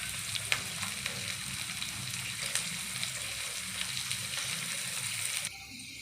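Capsicum and carrots fry together in a pan for a vegetable pulao, making a soft, continuous sizzle with scattered light pops and clicks. The sizzle is quiet and close, with no talking.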